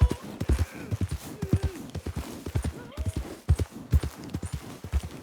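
Horse hooves clip-clop in the game Red Dead Redemption 2, a quick, steady gallop of close, punchy beats running throughout, with a brief snort or whinny mixed in.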